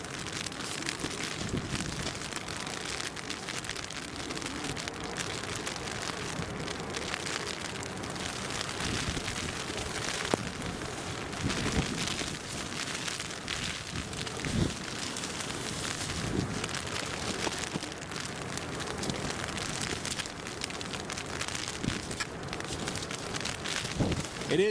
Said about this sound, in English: It is bucketing down, it is.